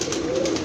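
A female pigeon of a long-kept breed coos once, a short, soft, low murmuring call heard close by.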